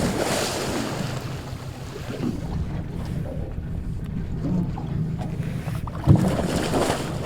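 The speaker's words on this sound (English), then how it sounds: "Yep, she's in neutral, out of gear." A boat idles in neutral on the open ocean, with a steady low engine rumble under washing waves and wind buffeting the microphone, plus one brief knock near the end.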